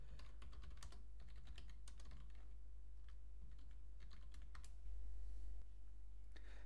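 A command typed on a computer keyboard while administering a cPanel server, steady close clicking keystrokes in irregular quick runs with short pauses, no talking.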